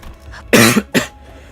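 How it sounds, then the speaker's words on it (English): Two short, harsh coughs in quick succession, close up, with quiet surroundings. "Sorry about coughing."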